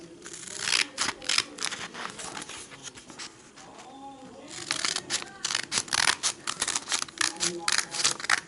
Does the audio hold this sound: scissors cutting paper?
yes